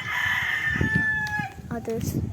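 Chickens on a chicken farm, with a rooster's drawn-out crow and some clucking close by over a steady background of birds, and a voice briefly speaks.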